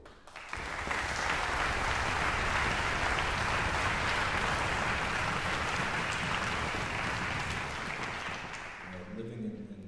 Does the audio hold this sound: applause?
yes